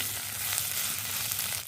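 Chopped onion and ginger-garlic paste fry in hot oil for a rohu fish and cauliflower curry, giving a steady, close, even sizzle that holds without a break and stops abruptly at the end.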